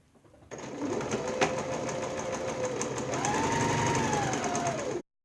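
Sewing machine stitches fabric in a fast, even whir that starts abruptly, runs steadily for several seconds with its motor pitch rising slightly toward the end, then stops suddenly.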